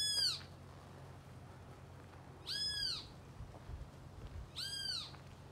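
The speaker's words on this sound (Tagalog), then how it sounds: "Maingay yung ibon." A bird gives three loud, descending calls spaced a couple of seconds apart, with a low rumbling background between them, in Bermuda.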